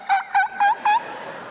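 A man vocally imitates a squeaking ceiling fan with four evenly spaced, nasal, whining squeaks, each rising slightly in pitch, followed by a faint lingering tail.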